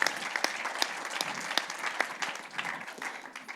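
Audience applause at a humanitarian medicine conference talk, a continuous wash of many hands clapping at moderate volume with occasional sharper claps standing out, gradually thinning toward the end.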